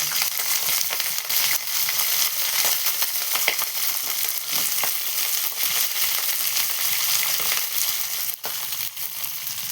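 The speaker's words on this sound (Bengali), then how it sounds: "কড়াইতে তেল দিয়ে দিয়েছি কড়াইটা গরম হয়ে গেছে এবার আমি এর মধ্যে ফুলকপিগুলোকে দিয়ে দেবো" Cauliflower pieces fry in hot oil in a wok, giving a loud, continuous crackling sizzle with dense popping spatters throughout, steady and close.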